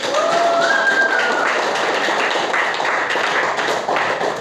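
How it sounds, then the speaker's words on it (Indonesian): A group of people clapping their hands together in a room, a dense, steady patter of claps held at an even level throughout, with a brief whistle-like tone near the start. "Tepuk tangan untuk kita semua"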